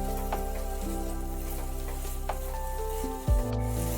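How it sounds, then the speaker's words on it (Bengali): Potatoes, beans, carrots and capsicum fry in a pan with a steady, close sizzle throughout, a few light stirring knocks and a brief clatter near the end, with no talk. "আলু, বিনস, গাজর, ক্যাপসিকাম এই সমস্ত সবজিকে ভালোভাবে একটু ফ্রাই করে নিতে হবে।"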